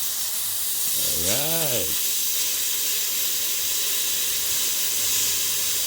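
Air hisses out of a bicycle tire through an open stem valve using a valve-core puller, a steady, close, loud rushing hiss, with a brief spoken word near the start.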